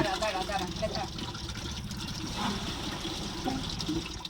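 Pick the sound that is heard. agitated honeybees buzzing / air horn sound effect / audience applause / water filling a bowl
water filling a bowl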